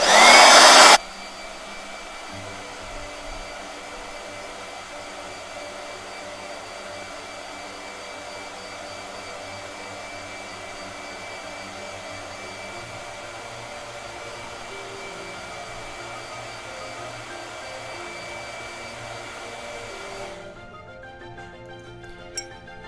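A blow dryer whirs with a steady, even hum for about twenty seconds, close and alone, after a brief loud burst at the start, then cuts off.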